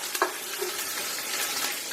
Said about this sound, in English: Make sure these onions get really brown.